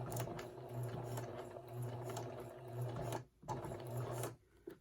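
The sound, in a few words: sewing machine stitching a button on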